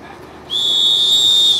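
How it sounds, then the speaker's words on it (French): One long, shrill whistle blast signalling the start of school bus convoys starts sharply and holds steady at a high pitch, loud and close, over faint background noise. "ce coup du sifflet du ministre en charge de l'enseignement général qui a donné le top du départ des convois"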